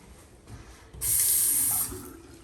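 Water from a bathroom sink tap gushes on loudly for under a second, steady and close, then cuts back to quiet room tone.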